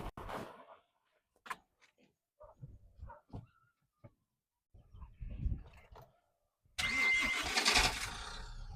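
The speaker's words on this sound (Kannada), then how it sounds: "ಕ್ಲಚ್ ಹೊತ್ತಿ ಸ್ಟಾರ್ಟ್ ಮಾಡ್ಬೇಕು ಅನ್ಸುತ್ತೆ" A 2021 MG Hector diesel with manual gearbox cranks and fires up near the end, the engine catching with a loud, sustained roar after a stretch of quiet speech, clunks and door sounds.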